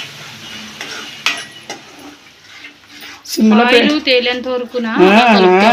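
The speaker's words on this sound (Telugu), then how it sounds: "నేను పెరుగు వేసుకున్న తర్వాత ఇలా కలుపుకుంటూ ఉండాలి" Curd being stirred into a drumstick masala gravy in a pan on a low flame: soft scraping and clinking stirs at first, then a voice talks loudly over the gentle stirring.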